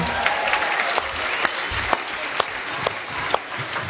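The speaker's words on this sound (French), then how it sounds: "Vous pouvez l'applaudir s'il vous plaît" An audience at a French-speaking live show applauds a volunteer, producing thick, continuous clapping with sharper individual claps popping out at a regular pace.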